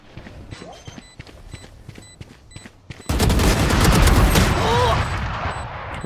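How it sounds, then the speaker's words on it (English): A swarm grenade going off in a video game: a quiet stretch of light ticking and footsteps gives way to a sudden, loud, sustained burst of rapid explosive cracks that lasts several seconds before easing. "Swarm grenade out."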